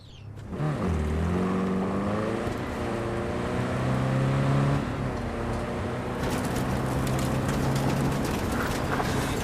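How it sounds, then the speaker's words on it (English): A car engine in Cyberpunk 2077 starts up and revs, its pitch climbing steadily as the vehicle speeds off, loud and continuous with a bright rushing layer joining in later. "I'll fire up the engine and we'll speed out of there"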